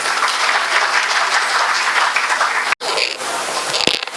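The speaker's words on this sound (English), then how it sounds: "Give a big round of applause once again" Audience at a college orientation program applauding a martial arts performer, sustained loud clapping with a brief cut partway, then the applause resumes until the end.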